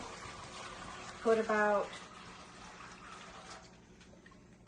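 Water is poured into an old, used pan to make a water bath for a choco flan, a brief splashing gush lasting about half a second amid quiet talking.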